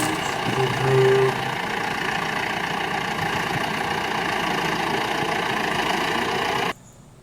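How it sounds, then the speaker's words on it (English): A bulldozer engine idles steadily at close range, a dense, even mechanical drone that holds for several seconds before cutting off abruptly near the end. "Bulldozer, guys!"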